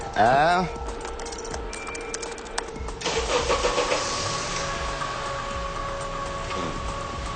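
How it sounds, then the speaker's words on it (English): A car engine, started remotely over a network, cranks and catches, then settles into a steady idle hum that continues to the end. "You could start and stop the engine from the other side of the parking lot."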